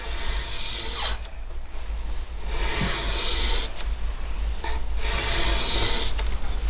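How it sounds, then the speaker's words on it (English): A knife being sharpened on a coarse grit stone gives long, rhythmic rasping strokes, close and loud, in steady back-and-forth passes with brief pauses between them. "we'll do all the knives on the coarse grit, and then we'll do them all on the next, and then the next"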